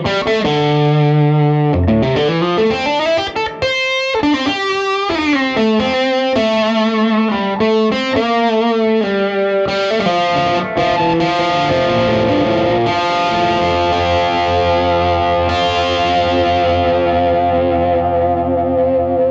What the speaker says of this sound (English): So you can also take this further by doing compression into some distortion.